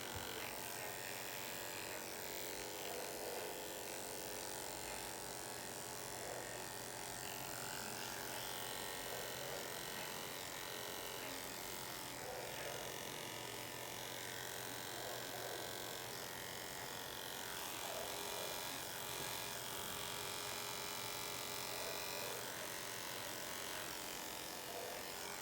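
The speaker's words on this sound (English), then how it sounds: "So we are almost done shaving." Electric clippers buzz steadily as hair is shaved from a surgical patient before anesthesia and scrubbing, giving a continuous faint mechanical hum throughout.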